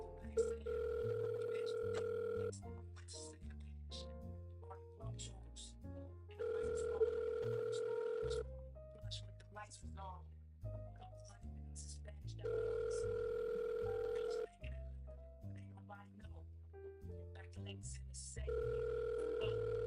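A telephone rings out over and over in regular long tones with gaps before the call forwards to voicemail, heard at low level with a voice talking underneath.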